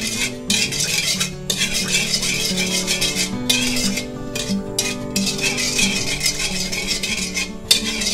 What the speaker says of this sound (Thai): ผัดให้น้ำตาลละลายนะคะ